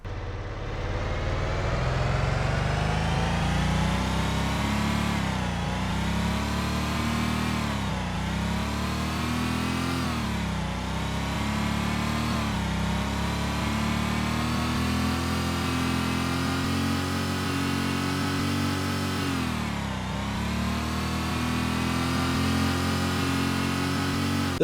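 In-game car engine from the Void Racer racing game, a loud steady engine tone that repeatedly revs up and drops back in pitch as gears shift, continuous for the whole stretch with no talking.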